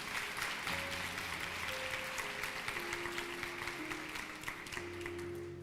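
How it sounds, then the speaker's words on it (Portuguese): A church congregation applauds with a dense, steady wash of clapping while a sustained organ or keyboard chord plays underneath, fairly distant throughout. "Você pode aplaudir ao Senhor por isso?"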